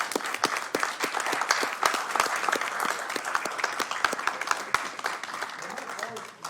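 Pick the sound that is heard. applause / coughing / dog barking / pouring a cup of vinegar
applause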